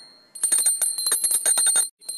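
After a brief hush, a small hand bell is shaken in a quick, continuous burst of bright metallic ringing close by, stopping abruptly and then sounding once more faintly.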